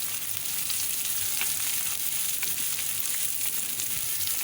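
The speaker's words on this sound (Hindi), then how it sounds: "सारी सब्जियों को डाल के स्टीयर फ्राई कर लेंगे।" Vegetables and white parts of green onion stir-frying in a pan give a steady, even sizzle up close, with light scattered crackles and no talking.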